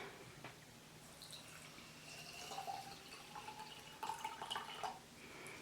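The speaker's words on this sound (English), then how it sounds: "All right, let's pour our water in." Blue-dyed water is poured onto sand in a jar, giving faint splashing and trickling with a few soft drips, quiet and close.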